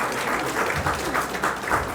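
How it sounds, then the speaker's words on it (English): Audience applauding the mayor at the grand opening of a Black History Museum and Cultural Center in Virginia, a short, full wash of clapping with a loud, roomy sound and faint voices mixed in. "We need to applaud him because he was with us every step of the way."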